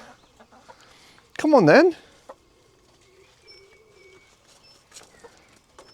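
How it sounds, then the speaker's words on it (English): Backyard chickens let out of their coop in spring give a loud burst of clucking and squawking near the start, then scattered quieter clucks and rustling follow while a person speaks briefly. "Yeah, the chickens are doing very well."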